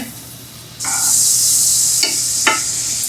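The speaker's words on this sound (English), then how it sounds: "So let's put some more butter in the pan here." Butter hits a hot frying pan for eggs and breaks into a loud, steady sizzle that carries on close by, with a couple of brief scrapes partway through and no talking.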